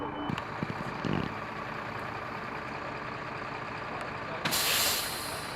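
A 40-foot bus manoeuvres in a back yard, its low engine rumbling steadily near by, with short knocks early on and a loud burst of air brake hiss near the end.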